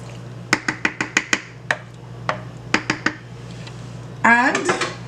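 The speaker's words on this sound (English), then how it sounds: "you just give it a good little stir to make sure everything is all mixed up together" Chicken stock is stirred in a pot with a utensil that knocks the rim in a quick run of sharp clinks, pauses, then clinks again, finishing with a brief swirl of liquid.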